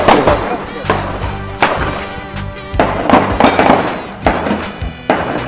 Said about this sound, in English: just gotta be careful here with some gunshots